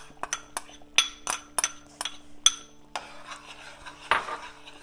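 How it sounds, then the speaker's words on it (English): A spoon clinks and scrapes against a pan while roasted rava (semolina) is stirred for pineapple kesari: a quick run of close, sharp metallic taps and scuffs, with one louder scrape near the end and no voices. "we have to add the rava, the roasted rava into the pan, and we have to stir at the same time"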